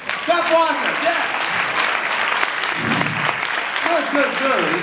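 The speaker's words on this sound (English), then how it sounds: "Clap for everyone. Clap for ourselves, yes." Steady clapping from a group fills the whole stretch, with voices chattering and calling out over it.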